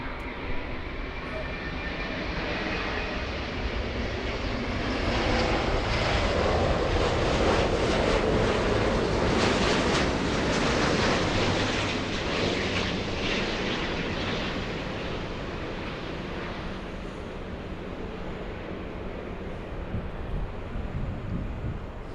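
Boeing 747-400 jet passing at LAX airport, a broad sustained roar that swells to a peak in the middle and slowly fades, heard from a distance with wind noise and some talk.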